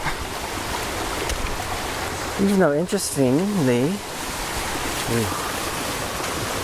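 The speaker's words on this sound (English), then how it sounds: "it's coming off the cement cistern and just flooding all through this whole area." Continuous rushing rainwater pours loudly and steadily off a cement cistern, flooding the area, with a person speaking briefly over the flow.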